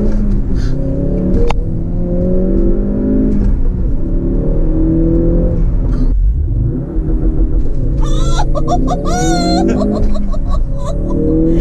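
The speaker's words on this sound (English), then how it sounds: "it's launch control." A Ford Focus RS performs a launch-control start, with heavy engine rumble building as the car accelerates hard. Passengers laugh and exclaim loudly over the engine toward the end.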